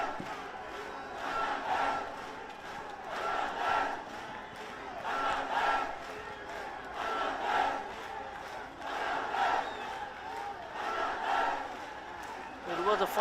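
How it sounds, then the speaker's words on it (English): Bangladesh supporters at a SAFF U20 Championship football final against India chant and cheer in a large stadium crowd, swelling in rhythmic waves roughly every two seconds, with distant commentary voices faint beneath. "Now the Bangladesh fans still cheering on."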